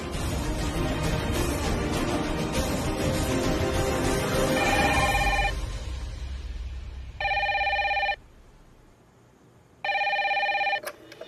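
A landline telephone on speaker rings twice, each ring a loud electronic trill about a second long with a pause between. Noisy, busy sound fills the first half of the scene before the rings.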